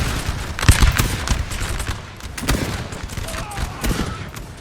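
Musket volleys crackle and pop from a Napoleonic infantry battle in Napoleon Total War, 1812 Russian front, with several loud ragged bursts and continuous distant firing, someone talking over the din.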